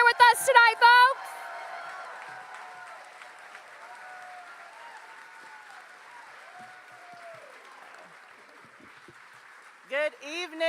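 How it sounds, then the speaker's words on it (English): Audience applause at a town hall in North Carolina, a steady sustained patter of clapping from a crowd that runs for several seconds, with a voice talking briefly at the start and again at the end. "Y'all give a very big round of applause for Rayna Walters Morgan"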